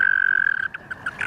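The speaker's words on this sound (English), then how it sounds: "And the toads have this kind of whistling trill noise to them." American toads giving a high whistling trill, a loud sustained buzzing note that breaks into short chirping pulses toward the end.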